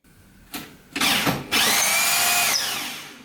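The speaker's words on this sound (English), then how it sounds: "This isn't the most comfortable way to drill a hole, but it works." A handheld power drill bores a hole into a thin wooden floating shelf, revving in short bursts before a steady two-second whine that trails off, loud and close with no talking.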